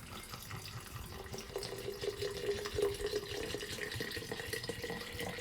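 Apple cider vinegar pours into a container over crushed egg shells, giving a steady, moderately loud splashing rush of liquid that continues without a break.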